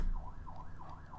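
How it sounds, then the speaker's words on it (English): A wailing emergency siren rising and falling in steady cycles, faint and distant, over low road rumble. "There's a siren coming down the road."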